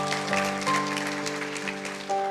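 A church congregation applauds for God at a worship service, a steady wash of clapping held over sustained keyboard chords, fairly loud and without speech.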